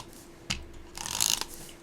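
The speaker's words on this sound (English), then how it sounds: "So now I'm just going to take some tape," Adhesive tape pulls off a roll up close, a sharp tick followed by a brief crackling, ripping strip lasting about half a second, then a short snap.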